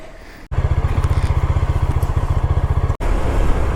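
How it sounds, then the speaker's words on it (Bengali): A motorcycle engine idles close by with a fast, even, throbbing putter, broken by a couple of brief cuts. "আমার বাইক একদম রেডি"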